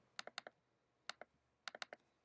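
Keys on a computer keyboard clatter in quick bursts of three to five strokes with short pauses between them, close up and clear with no talk, as the alphabet is typed out.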